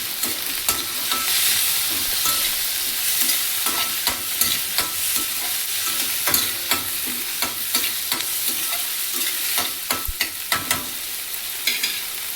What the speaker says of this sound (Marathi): आता आपण ह्यामध्ये टाकूया टोमॅटो. त्यालाही परतून घेऊया.